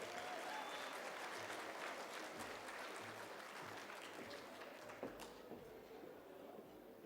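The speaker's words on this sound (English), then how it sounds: "Kindly give her a round of applause, please." An audience at a closing dinner applauds steadily, a broad, continuous wash of many hands clapping across the whole stretch, fairly faint and distant.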